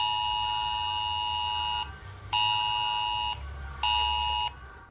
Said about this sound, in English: Yes, this is the civil protection alarm.